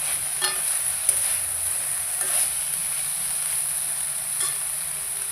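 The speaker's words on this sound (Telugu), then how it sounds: "ఫ్రై చేసేసుకుంటా" Steady hiss of fish frying in a pan, a continuous bright sizzle with a few faint clicks of a utensil, close and uninterrupted with no talk.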